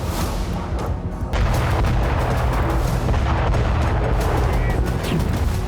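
Explosions as Russian forces destroy a Ukrainian Tor M2 surface-to-air missile system near Avdiivka during the war: loud, continuous booming and rumbling blasts that fill the whole stretch, close and dense, with no pause.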